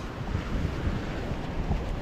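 Wind blowing across an ocean beach during surf fishing, a steady, rough rush of gusts and buffeting against the microphone, mixed with the low roar of surf.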